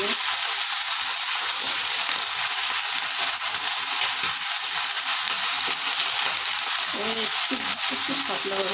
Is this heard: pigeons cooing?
no